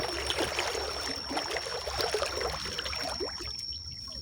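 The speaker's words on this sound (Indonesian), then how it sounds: "Airnya begitu deras" A fast-flowing river rushes steadily through the clip, a broad continuous roar with trickling and splashing detail, fairly close and unbroken throughout.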